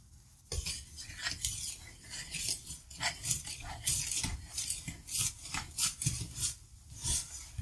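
Sugar and salt being stirred in a bowl for Alsatian kougelhopf brioche dough, a close series of scraping, clinking strokes of utensil against the bowl, fairly loud and rhythmic throughout.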